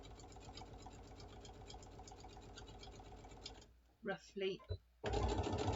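A sewing machine stitching a fabric bottle bag runs in a steady, close rattling whir for several seconds, stops while a person speaks briefly, then starts up again.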